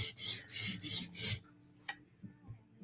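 Strokes of a file rasping a bevel onto a steel blade: about four steady, rhythmic passes in quick succession, close and fairly loud, then the filing stops, leaving a quiet room with one brief knock and faint low thumps.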